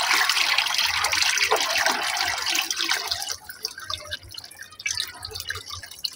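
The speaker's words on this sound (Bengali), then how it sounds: "জলটা কীভাবে ঢালছে দেখুন।" Water poured out of a guppy fish container, a loud splashing pour at first that thins to scattered drips and trickles, close by, no talk.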